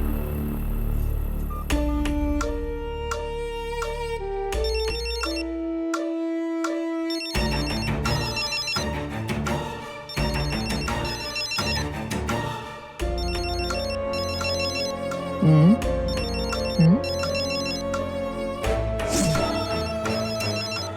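A melodic phone ringtone plays steadily for about twenty seconds in a Bengali supernatural TV serial scene, with shifting tones and repeated chiming phrases and no talking.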